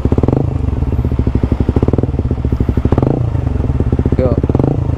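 Suzuki GSX-R150 with a Prospeed Black CNC exhaust blipped close up, its rapid pulsing exhaust note rising in short bursts of throttle and dropping back, with a voice talking over it.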